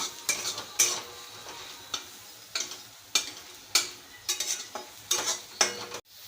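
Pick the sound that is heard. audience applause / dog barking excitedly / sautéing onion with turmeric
sautéing onion with turmeric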